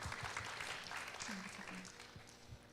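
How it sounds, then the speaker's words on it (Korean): An audience at a city council policy forum on drug prevention applauds a presenter, scattered clapping at moderate distance with a few voices murmuring underneath before it begins to taper. "큰 박수 부탁드리겠습니다"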